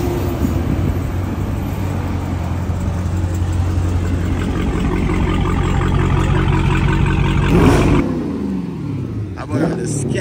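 A straight-piped Dodge Demon V8 roars loudly and steadily, rising in pitch as it revs and then cutting off abruptly near the end. It is very close, with a voice faintly under the engine.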